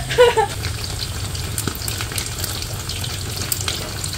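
Crispy pata, a whole pork leg, deep-frying in hot oil in a home kitchen under a nipa thatch roof, where the oil had flared up; a steady, loud crackling sizzle with a few sharper pops near the start, no voices.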